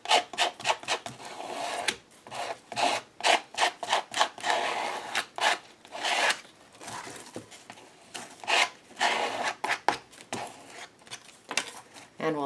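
Turquoise paint spread with a credit card on a textured background, a close, dry rasping scrape in repeated uneven strokes with short pauses between them.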